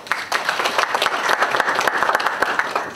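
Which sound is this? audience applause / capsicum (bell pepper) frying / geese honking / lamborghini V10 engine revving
audience applause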